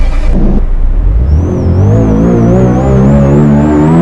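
A Range Rover engine in a Euro Truck Simulator 2 mod cranks and catches, then settles into a loud, steady idle hum with a thin whine on top.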